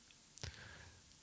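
A single mouse click while working in the Scratch programming editor, a brief sharp tick standing alone against a quiet background.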